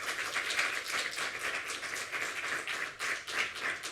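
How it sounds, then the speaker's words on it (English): A small audience at a talk gives a round of applause. The clapping is fairly faint and irregular, and individual claps can be picked out in the steady patter. "Let's give them a round of applause."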